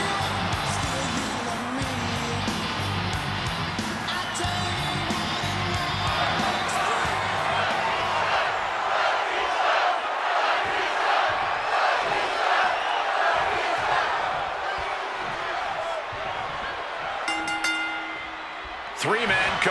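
A virtual arena crowd in the WWE 2K26 wrestling video game roars and cheers steadily during a three-man title match, with an announcer-style voice speaking over the noise.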